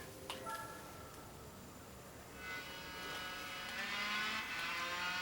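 A Suzuki 1100cc motorcycle in the Tourist Trophy racing game revs up with a rising, whirring engine note that swells louder toward the end, with no talk over it.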